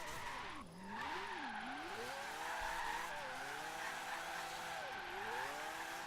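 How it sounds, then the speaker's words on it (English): Car tires skidding and squealing through a drift zone in Forza Horizon 3, a four-rotor Miata drift build on slightly narrow tires, with a loud continuous screech and wavering engine revs rising and falling over steady throttle, no voices. "But we're just gonna try and do this drift zone here."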